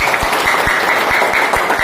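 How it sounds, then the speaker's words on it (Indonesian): An audience at a seminar applauds, a loud continuous wash of clapping with a few sharper individual claps standing out, steady throughout with no speech. "Tepuk tangan untuk PT BES"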